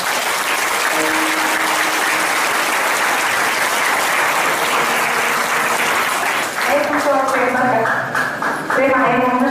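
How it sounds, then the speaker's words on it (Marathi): Sustained applause from an audience at a religious death-anniversary gathering honoring Sant Savata Maharaj, steady and dense throughout, with voices or music tones emerging over the clapping near the end. "कलाकार मंडळींसाठी तरी टाळ्या वाजवा"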